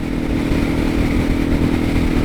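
A Suzuki DR650 single-cylinder motorcycle engine drones steadily while riding, heard loud and close with a constant low thrum and wind noise, and no talking.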